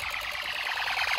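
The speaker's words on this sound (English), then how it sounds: "the main horn strobe over in here doesn't have resistors in it, so it's a lot louder" Fire alarm horn strobe with no resistors, part of a Snap-Circuits alarm system test, blaring loudly and continuously with a harsh, pulsing electronic tone that stays close and steady throughout.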